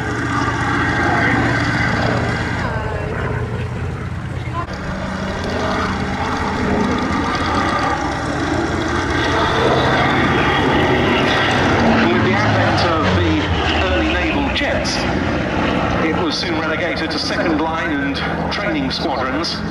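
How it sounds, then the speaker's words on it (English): A Corsair propeller fighter lands on the grass at the Duxford Summer Air Show, its piston engine droning and shifting in pitch under a continuous voice commentary. "Also coming in to land on the grass, meanwhile, the Corsair, which was flown by Stu Goldspink."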